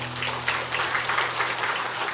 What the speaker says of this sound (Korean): 예, 우리 한번 박수 한번 하겠습니다.